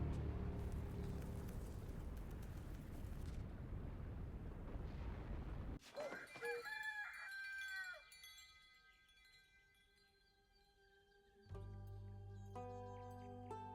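Falling stars crash down near an inn in the video game Tavern Talk: a long, loud rumbling roar for several seconds, then bright chiming game tones and music after the impact.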